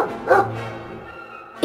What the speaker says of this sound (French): Et ils avaient des chiens.